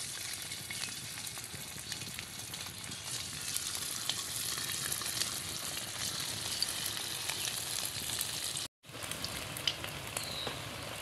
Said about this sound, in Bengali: তেল গরম হয়ে গেছে, এখন দিয়ে দিব বেটে রাখা ভুট্টাগুলো।